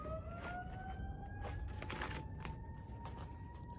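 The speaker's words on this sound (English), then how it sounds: "That siren only seems to be getting closer." An ambulance siren wails down a city street, its rising and falling tone steady and fairly loud over a dense traffic rumble, with no talking.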